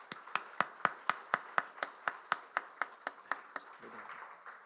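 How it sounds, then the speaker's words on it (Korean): A church congregation at a Sunday worship service claps in welcome, about fourteen steady, evenly spaced claps that soften slightly toward the end. "우리 환영의 박수 하도록 하겠습니다."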